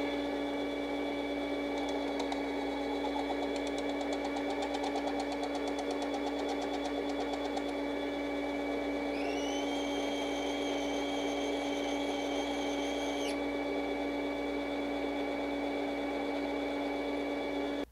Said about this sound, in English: I decided to go ahead and set up the Frankfurt Arsenal Case Trim and Prep Center to trim these cases.